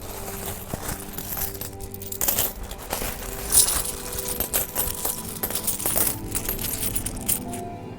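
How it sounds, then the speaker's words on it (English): Coins clicking and clinking in a steady busy patter, a movie sound effect of piled golden coins, moderately loud throughout with scattered sharper metallic chinks. "he heard the clicking of coins"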